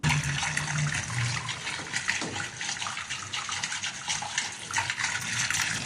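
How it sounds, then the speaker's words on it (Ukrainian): Rainwater gushes and streams steadily down basement walls, a loud continuous rushing flow with splashing throughout. "Вода просто стікає по стінах."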